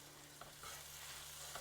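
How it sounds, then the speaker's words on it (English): Degi mirch spices are stirred in a frying pan over lowered heat, with a soft sizzle and light scraping of the spoon, quiet and brief with no talk. "Just put all of it in, just mix"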